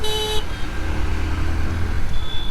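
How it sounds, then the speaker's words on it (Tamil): Evening rush-hour road traffic heard from a delivery motorbike: a short car horn toot opens over a low, constant engine and traffic rumble, and a fainter horn sounds near the end. "அந்த சைட்லாம் ஃபுல்லாக டிராஃபிக்காக தான் இருக்குது"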